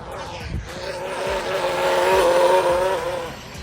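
Arrma Mojave RC trucks race past on a bash track, small motors whining at high pitch and rising and falling, with short tire scrapes and skids mixed in, fairly close and continuous.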